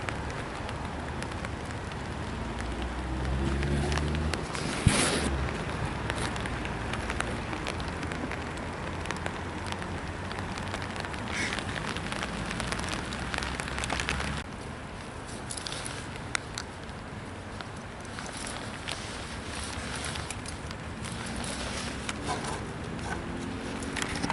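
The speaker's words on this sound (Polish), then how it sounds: "Słuchajcie, coraz mocniej pada." Steady rain falling and pattering on a surface close by at an urban campsite, a continuous hiss with occasional louder drops and faint bumps, no voices.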